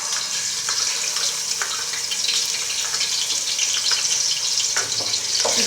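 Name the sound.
ginger garlic paste frying in a pan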